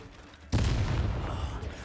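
After a quiet moment, a blasting spell in Hogwarts Legacy goes off as one sudden, loud, explosive boom that fades slowly into a rumbling tail.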